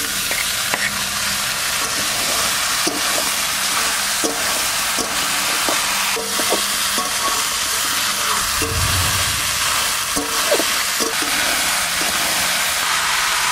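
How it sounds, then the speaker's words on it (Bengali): Potatoes and onions, joined by fresh gourd, fry in a pan with a steady close sizzle and hiss, broken by repeated scraping stirs; no one speaks. "এই যে আলু পেঁয়াজ প্রায় ভাজা ভাজা হয়ে গেছে, আলুগুলো পেঁয়াজগুলো নরম হয়ে গেছে।"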